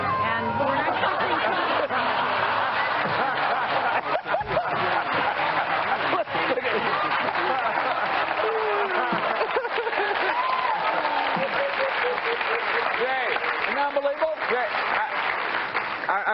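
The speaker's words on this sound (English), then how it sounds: "This crowd of people gathered right outside our studio." Large crowd gathered outside a studio, applauding and chattering in a steady mix of clapping, babble and scattered laughter that runs continuously and fairly loud throughout.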